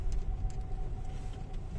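A car pulling over to park on a street in Sofia, Bulgaria: a steady low engine and road rumble, heard from inside the car, with faint mechanical clicks above it and no speech.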